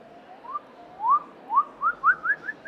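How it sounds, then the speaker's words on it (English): A gibbon's song: a series of rising, whistle-like hoots speeds up and climbs in pitch, growing into a quick run of clear, pure notes heard on their own. "gibbons, which are my favorite, because they sing"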